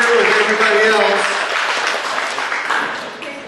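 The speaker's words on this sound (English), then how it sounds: "Give her a big round of applause." Audience applause at a recognition banquet comedy hypnosis show, a dense wash of clapping that starts loud and slowly tapers over a few seconds, with a voice briefly over it at the start.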